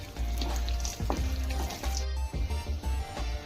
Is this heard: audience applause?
no